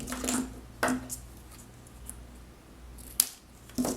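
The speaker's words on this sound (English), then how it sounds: "And I'm going to angle cut this one just a bit." A small piece of paper card trimmed at an angle, heard as a few crisp, quiet snips spaced apart against a calm room background.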